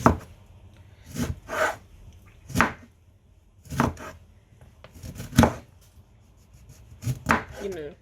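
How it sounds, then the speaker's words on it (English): A knife slices through lemons on a cutting board for a seafood boil, with about eight separate crisp thunks landing unevenly and close by, quiet between cuts and with no talking. "So I've got some lemons here. I'm just gonna slice them up."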